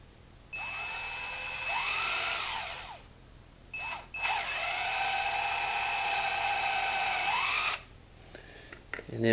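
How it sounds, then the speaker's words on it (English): High-pitched whine of a power drill fitted with a small starter bit, boring through material during an up-down air installation, running in several bursts that rise and fall in pitch, with brief pauses between them. "Go ahead and just drill through here."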